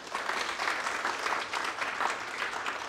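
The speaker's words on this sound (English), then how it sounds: "So shall we give them a hand clap?" Steady audience applause at a health leadership forum, a dense even patter of many hands clapping continuously throughout, moderately loud with no voices over it.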